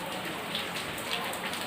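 Steady rainfall gives an even, close hiss of drops, with a couple of slightly louder drips standing out in the continuous patter.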